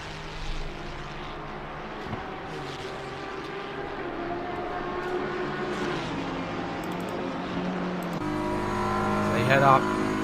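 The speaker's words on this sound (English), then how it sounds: "Lucky Bevis continuing to hound the rear of the number 70 most wanted BMW" Race cars run on the track during an endurance race that includes a BMW, with a steady engine drone beneath continuous commentary.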